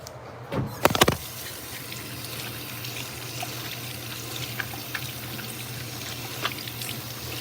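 Water runs steadily from a tap while something is washed at a sink, a constant close rush of flow with a few clinks and knocks near the start.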